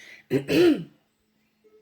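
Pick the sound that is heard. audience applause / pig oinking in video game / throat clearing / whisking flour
throat clearing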